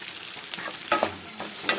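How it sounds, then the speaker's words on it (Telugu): Onions, green chillies and curry leaves fry in hot oil with a soft, steady sizzle, and a spoon scrapes and stirs them in the pan a few times. It is close up and no one speaks. "మంచిగా వేగనివ్వండి ఆనియన్స్"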